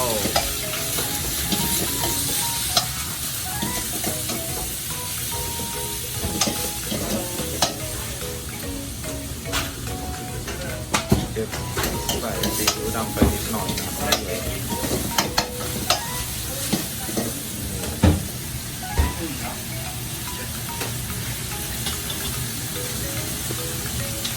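Thai street food being stir-fried in a pan at a takeout stall, a loud continuous sizzle with repeated clanks and scrapes of the utensil against the pan, close up and without speech.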